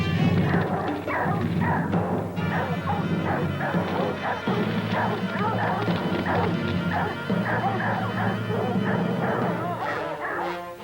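A rancher's dogs chasing young jaguar cubs bark and yip in rapid, overlapping bursts, with whimpers mixed in, loud and close and continuing without pause through the chase.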